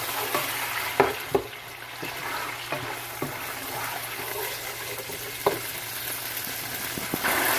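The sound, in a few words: frying and stirring tomato, garlic and ginger paste in a pan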